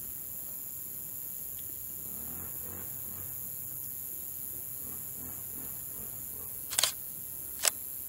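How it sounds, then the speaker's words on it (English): Two sharp camera shutter clicks, close and distinct, a second apart near the end, over a steady background hum with insects chirping at sunset by Lake Rathbun, Iowa. "you can hear the shutter click"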